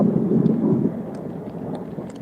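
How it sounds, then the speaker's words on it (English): Low, heavy rumble of thunder during a rainy fishing outing, loud and close, rolling for a moment and easing off over a steady wash of rain and wind noise. "You hear that thunder?"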